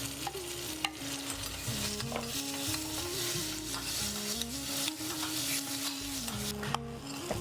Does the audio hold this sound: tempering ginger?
yes